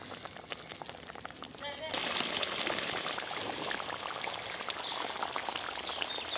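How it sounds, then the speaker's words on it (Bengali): Water is poured into a pan of pointed gourd curry cooked with spices in a rustic village kitchen, a steady splashing rush starting about two seconds in and continuing to the end, close by and fairly loud. "মশলার সাথে পটল খুব ভালো করে কষে নিয়েছি, এবার জল দেব।"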